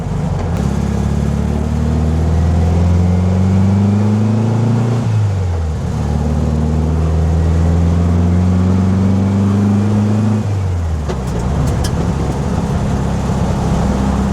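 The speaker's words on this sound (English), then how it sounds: "it's just so nice to go into 4th gear and it not vibrate" From inside a 1965 Volkswagen Beetle, the engine pulls up through the gears, revving rising then dropping at each shift, ending on a lower steady drone after the change into fourth gear; constant road and cabin rumble underneath.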